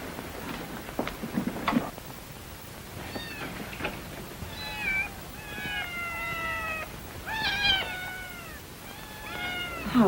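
Cats meow repeatedly indoors, a series of clear, drawn-out mewing calls in bursts, moderately close, with some soft thumps early on.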